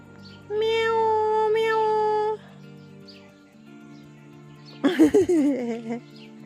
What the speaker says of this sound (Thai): แมวแมวแมวแมว